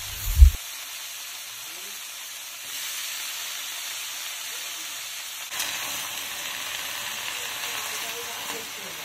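Chopped vegetables and onion fry in a pan for a pui shak mustard chorchori, a steady soft sizzle that swells louder after the vegetables go in, following a brief thump at the start.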